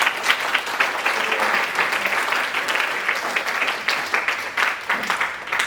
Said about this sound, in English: Can we give a round of applause at the get-go?